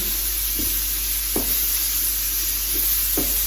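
Steady loud hissing sizzle of food frying in a pan, with a few soft scrapes and taps of stirring.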